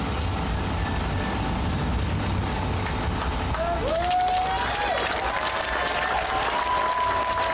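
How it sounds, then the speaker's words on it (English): Crowd applause at an outdoor street gathering during evening protest speeches, a steady wash of clapping throughout with scattered cheers and a whistle-like tone rising over it midway. "What are you clapping for?"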